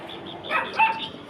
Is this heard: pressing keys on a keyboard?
no